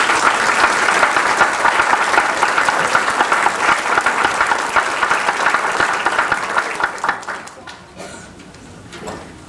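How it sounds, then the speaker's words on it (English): An audience at a 1996 public library dedication ceremony gives the 34th Army Band loud, sustained applause that thins and fades out toward the end. "give them another round of applause"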